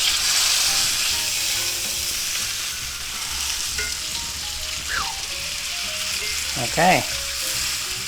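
Chuck steak sizzles steadily in a cast iron skillet, a loud continuous frying hiss throughout, with a brief clatter of handling near the end and a short spoken word over it.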